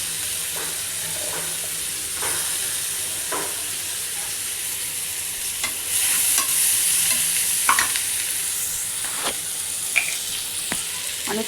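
Onions fry with turmeric and tomato for a Maharashtrian masoor dal, a steady close sizzle broken by repeated scraping stirs of a spoon in the pan, with no talking.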